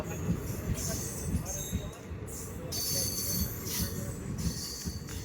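Passenger train number 22393 rolling slowly into a station, its wheels squealing in high, sustained screeches over a continuous heavy rumble of railcars, loud and close throughout.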